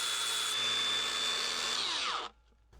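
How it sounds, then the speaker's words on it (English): Angle grinder cutting through a metal stabilizer bar during a car lighting upgrade: a loud, steady high-pitched whine for about two seconds that then winds down and stops abruptly. "Then I need my angle grinder to cut this stabilizer in half"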